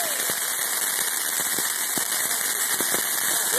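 Bottle rockets go off on the Fourth of July, sharp crackling pops and whistling bursts scattered in quick succession over a dense hiss of distant fireworks, moderately far away.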